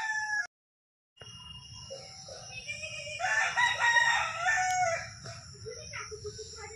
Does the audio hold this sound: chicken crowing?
yes